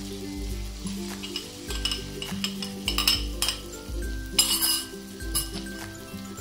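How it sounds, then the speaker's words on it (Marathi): Beaten eggs poured into a hot pan and stir-fried for Marathi-style egg rice, with a steady sizzle under repeated clinks and scrapes of a spatula against the metal pan, rhythmic and close. "अंडी आपण फेटून घेतली आहेत, ती अंडी आपण आता टाकायची आहेत"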